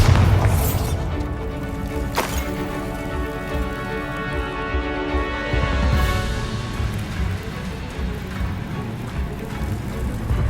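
A Bombarda blast spell goes off in Hogwarts Legacy, a sharp booming impact near the start followed by a second crack, over a dense rumbling, rain-like wash of game ambience that fills the whole stretch.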